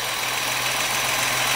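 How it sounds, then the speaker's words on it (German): A Ford Sierra XR4i V6 engine idles steadily and smoothly up close, a constant even hum with no variation. "Aber der Motorlauf ist schon mal richtig schön ruhig."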